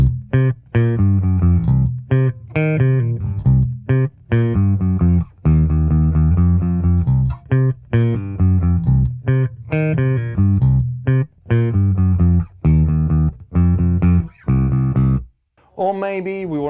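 Bass guitar picked with a plectrum through an EBS Reidmar 752 bass head with the treble raised slightly, playing a steady, loud line of punchy notes with brief gaps and a bright flourish at the end.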